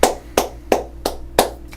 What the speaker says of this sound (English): Let's give Nicole a round of applause.